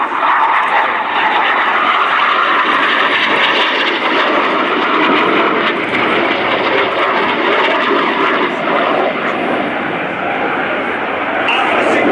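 Red Arrows jet aircraft fly a display at the Royal International Air Tattoo 2024 as the Synchro pair turn hard, producing a loud, steady broadband jet roar throughout, with a commentator talking over it.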